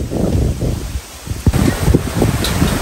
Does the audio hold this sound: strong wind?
yes